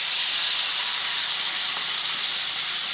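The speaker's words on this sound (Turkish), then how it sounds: "Önce tavuk. Soteleniyor." Chicken breast sautéing in a pan over high heat, a steady hissing sizzle that continues evenly throughout, close and fairly loud with no voices.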